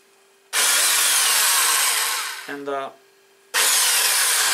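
Electric drill used to spin a car alternator for testing, whirring loudly in a long burst, winding down with a rough stuttering tone, then starting up again at full speed, with a brief spoken word.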